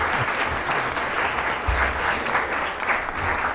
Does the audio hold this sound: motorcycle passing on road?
no